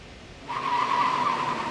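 Touring cars leave the grid at the start of race 2 in the Baltic Touring Car Championship, a sustained loud screech of tyres and engines rising suddenly after a brief lull and holding steady.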